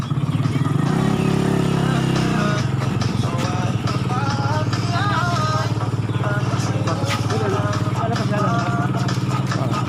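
A motorcycle engine runs nearby at a steady rumble, with voices talking over it and some clattering in the background.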